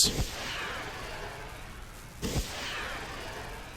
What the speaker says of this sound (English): Throw some fireworks.